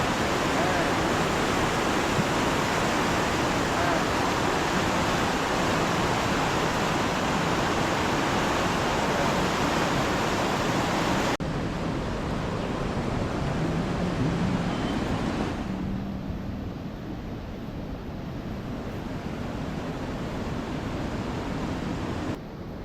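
The flooded Kaveri River near Mysore rushes past in a loud, continuous roar, with wind buffeting the microphone. The roar drops slightly in level partway through.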